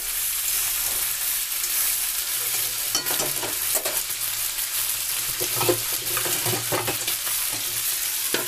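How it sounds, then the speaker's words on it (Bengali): Chopped flat beans are stirred and fried with onion in a pan, a steady close sizzle broken by repeated scraping strokes of the spoon. "শিমগুলো দিয়ে আমি নাড়বো। শিমগুলো লাল লাল করে ভাজবো পেঁয়াজের সাথে।"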